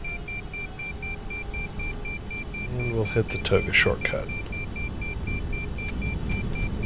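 A Boeing 747 cockpit in a flight simulator game gives a repeated steady electronic beeping tone during takeoff, continuing behind someone talking and the hum of the engines.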